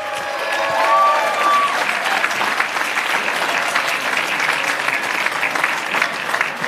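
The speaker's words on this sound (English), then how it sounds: "Give him one more round of applause, Joe Esposito." Audience applause fills a reception celebrating Italian heritage, a steady dense clapping from a large crowd that stays loud and even throughout, with a brief tonal whistle-like sound early on.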